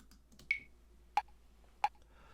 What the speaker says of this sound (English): So the click itself in this example, it sounds like this.